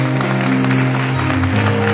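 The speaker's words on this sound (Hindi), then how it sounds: "उस खुदा के बर्रे के लिए तालियां बजाएं सब" A church congregation applauding during a Presbyterian praise and worship service in Rawalpindi, steady clapping under strong sustained music tones, continuous and fairly loud throughout.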